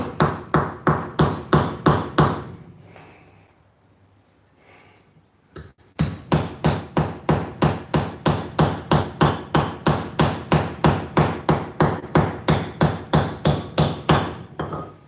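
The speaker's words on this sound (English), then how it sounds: "Always freaks me out hammering on hardened steel." A hammer strikes hardened steel while forging scissors in a steady, ringing rhythm, pausing briefly before resuming with fast, evenly spaced blows.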